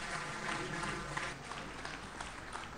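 An auditorium crowd at a Mumbai mushaira claps in welcome for the poet Waseem Barelvi, a steady, fairly faint spread of applause heard over a low hum, with no voice on top.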